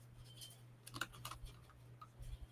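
Someone types on a computer keyboard, a quiet run of light clicks and taps in an irregular rhythm, heard close over a low steady hum.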